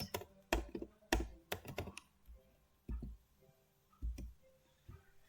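Typing commands into a Linux shell on a computer keyboard: bursts of close key clicks and thumps in uneven runs, pausing between short groups, with no voices.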